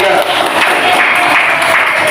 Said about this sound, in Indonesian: Beri tepuk untuk tepuk tangan untuk anak kelompok 3.